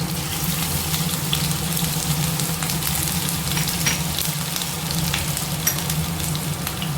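Ginger frying in a pan, a steady close crackling sizzle holding evenly throughout with a low hum underneath and no talking.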